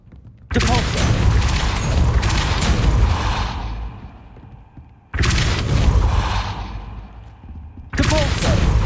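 Spell-casting effects for Depulso in Hogwarts Legacy, three sudden loud blasts of whooshing, booming force, each cutting in sharply and ringing out over a few seconds before the next.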